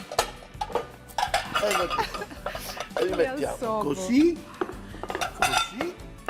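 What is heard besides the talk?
plates and dishes being handled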